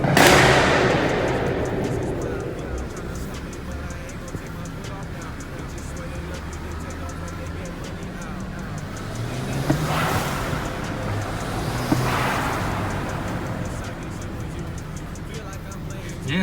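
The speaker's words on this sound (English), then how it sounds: "Yeah, it sounds great, these blow-off valves." A BMW 535 with the N54 turbo engine and an inexpensive aftermarket blow-off valve vents in two sharp whooshing bursts over a low engine and road rumble, with a voice heard now and then.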